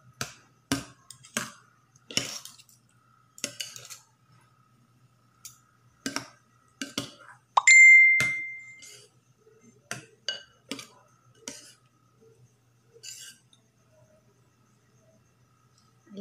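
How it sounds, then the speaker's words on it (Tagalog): Repeated clicking and tapping of a utensil against a bowl while mixing batter for chayote omelette, irregular strokes with brief pauses, plus one short high-pitched whine partway through. "Mix natin mabuti."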